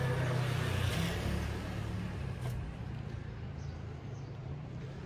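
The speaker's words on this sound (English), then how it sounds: "Oh, we got a car coming." A car climbs the road toward Piazzale Michelangelo in Florence, its engine rumble fairly close and steady before gradually fading, with no talking.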